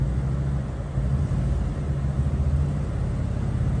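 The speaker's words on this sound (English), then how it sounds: "we're gonna show them how smooth it is in reverse when you just back up" A CFMOTO side-by-side fitted with an RNG Performance clutch kit backs up in reverse on light throttle, its engine a steady, smooth low rumble that stays even throughout with no revving or surges.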